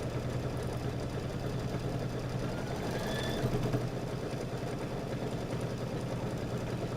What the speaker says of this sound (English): And go ahead and stitch that down.